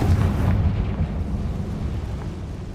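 A Confringo fire spell exploding in Hogwarts Legacy, a deep, rumbling blast with a heavy low-end roar that rolls on and fades slowly.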